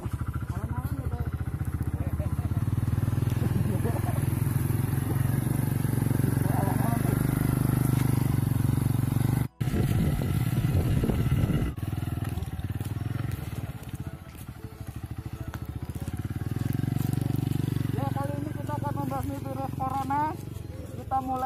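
A motorcycle engine runs throughout while riding over a gravel road, a loud continuous rumble with shifting revs and a brief cut partway through, with people talking over it.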